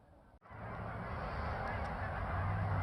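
A large flock of geese raising a loud, continuous uproar outdoors, honking calls overlapping densely for a few seconds after a brief gap at the start, with no talking.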